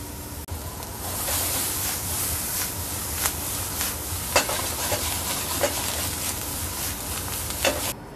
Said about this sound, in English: I'll add the pea vine that the peas grew on into the saute as well.